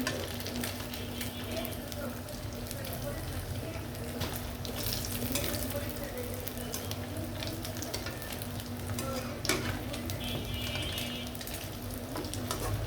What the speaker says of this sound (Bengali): হালকা জালে ভাজতে হবে মাছটা, ভিতরে সুন্দর হবে